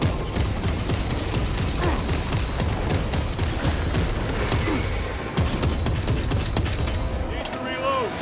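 Orbital guns in Warhammer 40K Space Marine 2 fire amid a dense, continuous wall of battle noise, with rapid gunfire and booming impacts layered together, while voices speak over the din.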